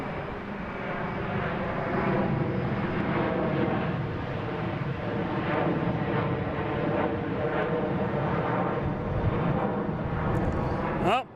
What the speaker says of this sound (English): C-17 coming in.